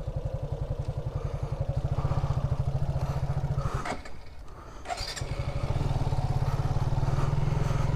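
Motorcycle engine running nearby with a steady, rapid low thump, dipping briefly as if throttled down before picking back up to a constant idle rumble.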